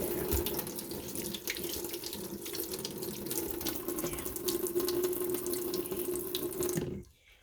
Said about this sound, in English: let me rinse it off a little bit so that you can see better.